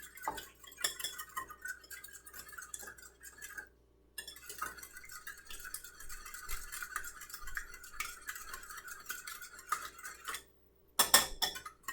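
A spatula scraping and clicking against a bowl while zucchini fries are tossed in beaten egg, a quiet continuous clatter with short pauses and a sharper flurry of taps near the end.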